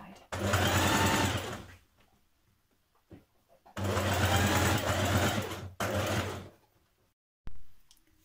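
A sewing machine stitches the seams of a blouse in three loud runs of rapid whirring, separated by short pauses and ending with a brief final burst, all close-up, with a voice talking during the gaps.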